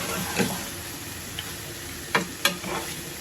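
Kaikka fish with garlic is stir-fried in a pan, giving a soft, steady sizzle broken by a few sharp clacks and scrapes of a utensil against the pan, each sounding alone.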